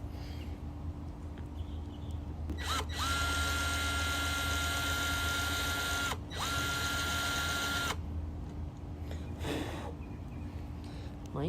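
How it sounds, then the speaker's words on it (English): A power drill bores into wood during a DIY box pad build, a close whine that runs in two steady bursts with brief pauses between them. "Made a nice hole with the drill bit. Now we just drill her up."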